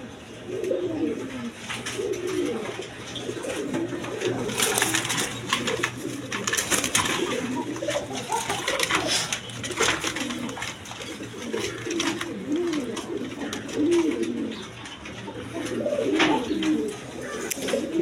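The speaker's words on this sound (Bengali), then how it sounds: "এখানে এক পেয়ার কোকা কবুতর আছে দেখেন, বাসিরাজ কোকা" Kokka pigeons coo repeatedly in low rolling phrases, close and fairly loud, over steady background noise and occasional rustling, with no speech.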